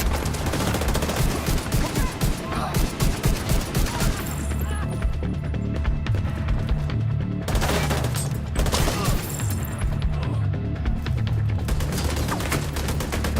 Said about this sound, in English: Wait, that is a machine gunner.